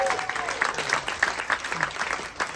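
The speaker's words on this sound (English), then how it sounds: "Give Jen a round of applause." A comedy club audience at Renew 23 West claps for Jen, a dense burst of applause near the listener that thins out and tails off toward the end.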